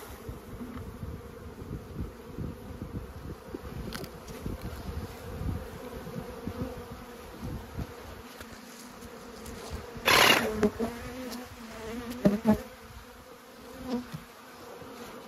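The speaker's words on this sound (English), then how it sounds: "So it dumps quite a chunk of bees in there pretty well." Honeybees buzz in a low, steady drone, with a sudden sharp knock and brief louder flurries as a frame is shaken over a shaker box.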